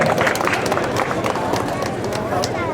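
Audience at a charity auction clapping steadily and loudly after a sale, a dense continuous patter of many hands mixed with crowd chatter and voices.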